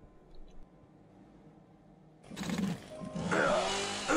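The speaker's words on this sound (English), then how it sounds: "Oh, there's a chainsaw." A chainsaw in the Doom-engine horror game Dismantled roars to life after a quiet stretch, a sudden loud, harsh buzzing that rises and holds, with no talking heard.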